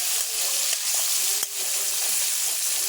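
Pangas fish with onion and chili being stirred in a hot pan, giving a steady loud sizzle with a few soft scraping touches and one sharp tap near the middle.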